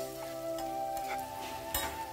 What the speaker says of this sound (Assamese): এইখিনি মই লৰাই লৰাই ভাজি থাকিলোঁ